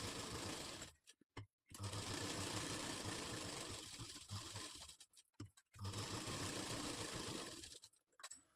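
A sewing machine runs in steady bursts while stitching a katori blouse, lining and main fabric held flat, with brief pauses between runs; close and loud, no talking.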